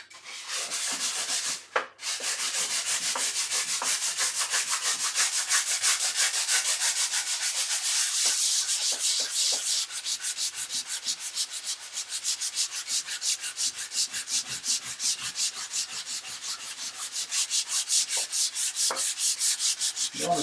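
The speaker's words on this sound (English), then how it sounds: "You don't want to sand too much off" Hand sanding of timber with 150-grit sandpaper for an apothecary chest box, a close, rapid rhythmic rasping of even back-and-forth strokes that runs continuously after a brief pause near the start.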